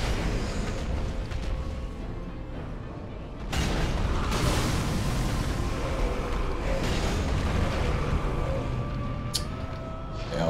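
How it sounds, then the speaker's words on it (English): A heavy boom erupts in Dark Souls III partway through, a broad rumbling blast that stays loud and dense for several seconds amid mechanical creaks and clanks. "Explosion this time, bud."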